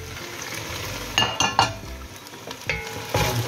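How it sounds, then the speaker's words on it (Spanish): Asparagus sautéing in a pan for a chicken stew: a constant close sizzle broken by several sharp scraping stirs and clinks of a utensil against the pan. "Vamos también a rehogarlos un poquito, que cojan todo el sabor."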